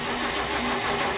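A 1975 Lincoln Mark IV with a 460 V8 being hot-wired after sitting unused for years, a loud, dense mechanical roar of cranking or catching, close and unbroken.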